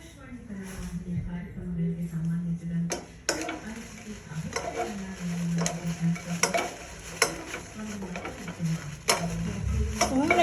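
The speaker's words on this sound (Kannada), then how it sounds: "ಮೆಣಸಿನ್ಕಾಯಿನ 2 ಸರ್ತಿ ಹಾಕ್ಕೊಂಡು ಹುರಿತಾ ಇದ್ದೀನಿ" Dried red chillies roast in a little oil in a pan for homemade huli sambar powder, a soft sizzle beneath repeated scraping stir strokes and spoon taps, while a person talks throughout.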